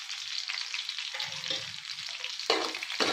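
Coriander and cumin seeds dry-roast in a pan over low flame, giving a steady close crackling sizzle with a few louder stirring scrapes near the end and no voices.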